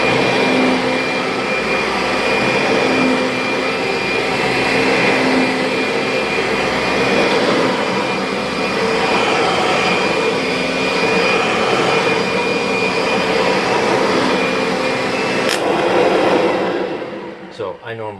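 A Kirby vacuum cleaner runs continuously over a test carpet while removing sand, a loud, steady whining roar close by that cuts off near the end.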